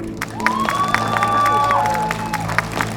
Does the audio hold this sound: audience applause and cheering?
yes